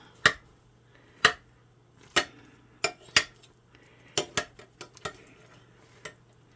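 A metal spoon scoops apple butter cake out of a ceramic slow cooker pot, giving about a dozen sharp, irregular clinks and scrapes, close and clear, with no talking.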